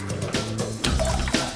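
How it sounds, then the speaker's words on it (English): Trapped water gushing and splashing out of a household tap while its spindle is removed with an adjustable spanner during a plumbing repair, a steady close wet rush with small surges, no talking. "You often release trapped water at this point"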